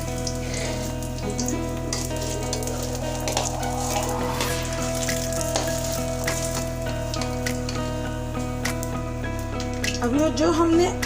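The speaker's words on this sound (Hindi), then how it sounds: "अब उन आलू को हम अपनी कढ़ाई में डाल देते हैं और फ्राई कर लेते हैं" Potatoes frying in a kadhai over a lowered flame, giving a steady, close sizzle that runs the whole time beneath faint background tones, with a few clinks near the end.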